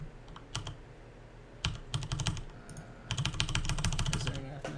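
A computer keyboard clatters in close bursts of quick keystrokes and clicks, with short pauses between runs and faint talk in the background.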